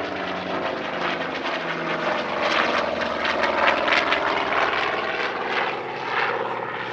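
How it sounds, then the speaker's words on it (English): An OV-10B Bronco and an AD-4N Skyraider drone steadily overhead at an airshow, a loud continuous engine roar that swells slightly as they pass, with no voices. "only a two-ship performance featuring an OV-10B Bronco and AD-4N Skyraider could be arranged"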